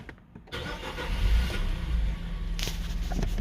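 A tuned Nissan Juke 1.6 turbo engine catches after a brief quiet moment and settles into a steady, close mid-pitched idle with a faint hum. No one speaks.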